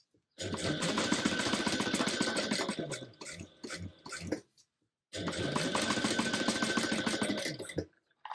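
A sewing machine runs a straight stitch down the centre of mesh on a tote bag, two long steady whirring bursts split by a short stop-start stretch and a pause, loud and close.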